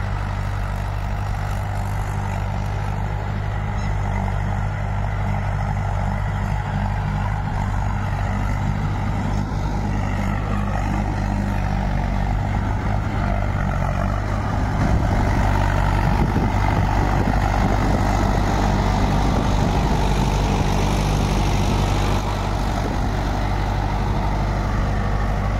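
Mahindra 585 DI tractor engine pulling a cultivator, a steady low diesel drone that stays loud and continuous throughout, with a slightly heavier stretch in the second half and no voices.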